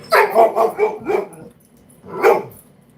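A dog barks in a quick run of five or six close, loud barks, pauses, then lets out one more bark.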